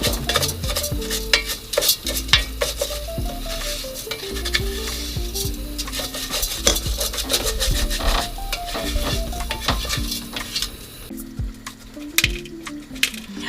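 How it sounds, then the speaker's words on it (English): Rice fries in a pan with broth and butter in an Italian kitchen, a steady close sizzle broken by repeated scraping and stirring strokes of a utensil against the pan, with no talking. "she's kind of frying it with broth and some butter"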